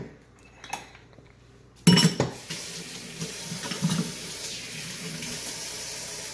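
Tap water pours steadily into a kitchen sink while a dish or pan clatters against it, a loud clunk starting the flow, then continuous splashing with small knocks of cookware, close by and with no talk.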